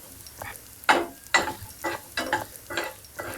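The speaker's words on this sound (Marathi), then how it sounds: "जसं फ्लावर तळलं तसंच ही बटाटे सुद्धा तशीच फ्राय करून घ्यायची" Potato pieces frying in oil over a lowered gas flame after cauliflower, sizzling in bursts as they are stirred, close up, with about six rhythmic surges and no talk.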